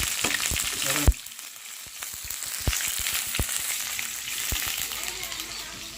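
Onions sizzle and fry with ginger garlic paste in a pan for veg noodles, a steady crackling hiss punctuated by sharp clicks and stirring knocks, close and moderately loud.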